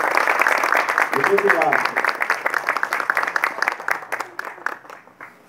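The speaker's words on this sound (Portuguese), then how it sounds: "Uma salva de palmas, senhoras e senhores." A crowd claps steadily at the inauguration of a motorcycle shop's new premises, the applause loud at first and then breaking into scattered, fading claps while someone speaks briefly over it.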